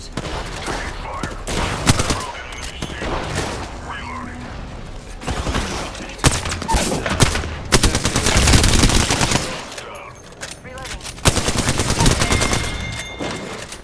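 Gunfire in Apex Legends, rapid automatic bursts and sharp cracks in loud close clusters, with short pauses between volleys and a character voice speaking over the shooting.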